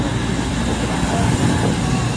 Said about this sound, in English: You can hear the diesel Virgin Super Voyager